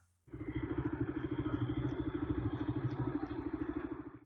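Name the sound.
motorcycle being ridden uphill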